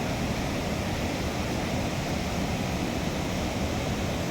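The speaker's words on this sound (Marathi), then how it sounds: "ओसांडून वाहत आहे शेर्पे धबधबा" Sherpe waterfall in the Konkan region of Maharashtra, overflowing: a steady, dense roar of rushing water, broadband and continuous with no breaks, loud and close.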